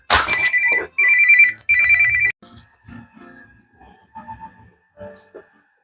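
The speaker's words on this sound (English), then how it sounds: "That'll be the phone." A telephone rings loudly in three quick bursts, then stops as a voice and quieter room sounds follow.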